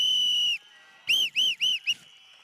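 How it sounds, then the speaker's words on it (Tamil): Whistles are blown by people at a political rally held for a Women's Day event in Chennai: one long shrill blast, then a series of four short rising-falling toots, clear against a quiet background. "எங்களின் விசில் சத்தம் விண்ணை பிளக்கின்ற வகையில் இதோ நாங்கள் ஊதுகிறோம்"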